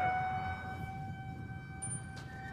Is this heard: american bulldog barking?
no